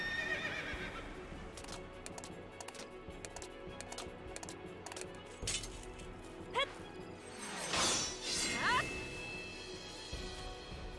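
A horse neighs in a busy Final Fantasy XIII game soundscape, the mechanical horse summon Odin, with clattering effects and music-like tones around it and a brief whinny rising near the end.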